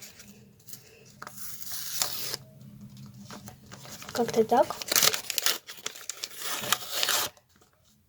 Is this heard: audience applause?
no